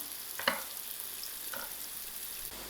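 Onions fry quietly in a pan for a tuna pasta, a soft steady sizzle with a couple of faint stirring clinks, no voices.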